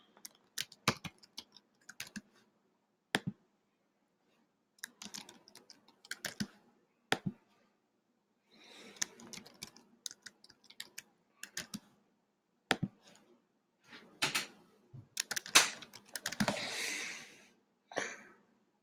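Quiz answers being typed on a computer keyboard: quiet, irregular bursts of key clicks in short clusters separated by pauses, close and faint, no talking.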